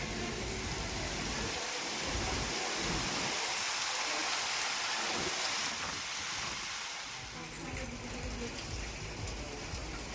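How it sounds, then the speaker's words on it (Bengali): Heavy rain pours down in a dense, constant hiss, with gusty wind rumbling through it at a riverside resort on the Ganges near Uluberia, loud and continuous, no speech. "বৃষ্টি কিন্তু দারুণ জোরে পড়ছে"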